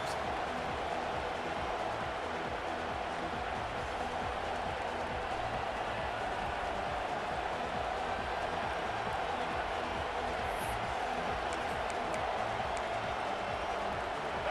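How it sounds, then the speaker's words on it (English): Stadium crowd noise in an EA Sports College Football video game, a steady, loud wash of roaring fans that fills the whole stretch without letup, with faint game audio mixed in. "This crowd ready to make its presence known."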